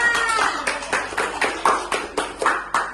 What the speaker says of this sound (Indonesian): Tepuk tangan dulu ya buat kita semuanya